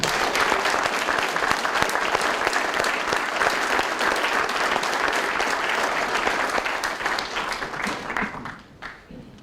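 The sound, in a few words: audience applause at a military spur ride ceremony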